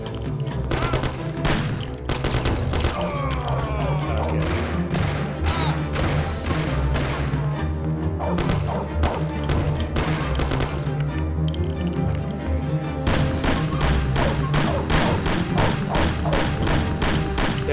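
Thompson submachine gun fire in the Mafia video game, rapid repeated bursts of loud sharp shots with thuds and impacts throughout, over a steady droning background.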